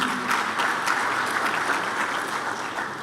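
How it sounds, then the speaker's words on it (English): Audience applause at a science congress session, a dense, even patter of many people clapping throughout, fairly loud and close, with no speech over it. "Can you clap again for the DVC?"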